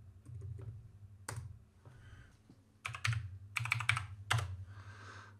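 Keys on a HAVIT mechanical RGB gaming keyboard clack in irregular bursts, a few scattered presses followed by quicker runs of loud, close clicks with short pauses between.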